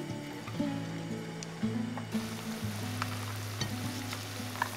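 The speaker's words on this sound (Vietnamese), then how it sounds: "Mình vo tròn và ấn dẹt xuống như thế này, rồi thả vào chiên" Fish paste patties fry in oil, sizzling and crackling steadily in a pan, with a few soft clinks and scrapes as pieces are dropped in and moved around.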